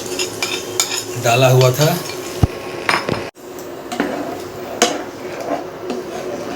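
Curd, gram flour, turmeric, salt and chilli powder kadhi mixture stirred in a frying pan with onions, scraping and clinking of utensil against metal with a soft sizzle, under brief speech and a sharp knock midway.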